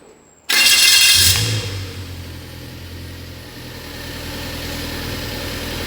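A Toyota All New Avanza engine cranks with a loud, brief whir, catches and settles into a steady idle that keeps running.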